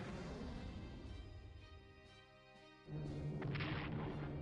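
Artillery bombardment in the WWII strategy game Strategic Command: a rumbling barrage of booms that fades and then swells again into a louder, sustained crash of explosions, heard alone without voices.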